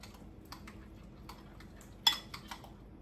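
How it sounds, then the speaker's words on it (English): Soft, sparse clicks and taps of a utensil against a bowl as garlic butter with parsley is stirred, quiet and close, with one sharper knock partway through and no talking. "And then you're just going to stir this up."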